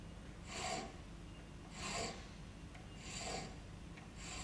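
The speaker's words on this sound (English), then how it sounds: "So when you file it through and lift it back off, through, lift it back off." Metal file rasping across the top of a thread to flatten it, four slow separate strokes about one to one and a half seconds apart, each a raspy swell with quiet lifts between, close and steady.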